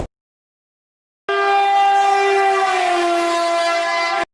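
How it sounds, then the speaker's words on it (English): Duronto Express passenger train sounding its horn, a loud sustained harmonic blast of about three seconds, close by and alone after a short silence. "And this is our train,"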